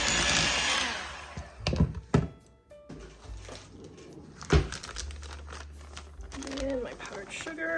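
An electric mixer whirs through butter, vanilla paste and sugar in a bowl, the motor hum starting and stopping in bursts amid clunks and rustling, with a person talking over it.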